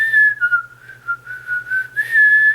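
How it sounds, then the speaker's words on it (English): A person whistles a wavering, clear tune up close, with short breaks between notes and no talking. "Did you ever try whistling? I do it."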